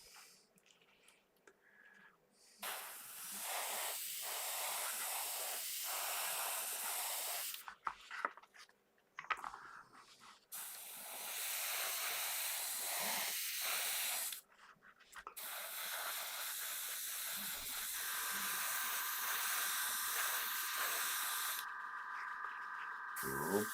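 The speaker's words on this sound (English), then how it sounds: "Right, let's get his body sprayed." An airbrush or spray can hisses in sustained bursts over the body of an Aoshima 1/24 Knight Rider model car, with three long sprays broken by short quiet gaps, close but faint.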